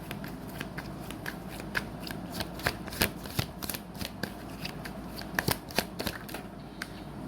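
Tarot cards are shuffled by hand in a steady riffling patter of crisp, close-up flicks and soft slaps that continues throughout at moderate volume.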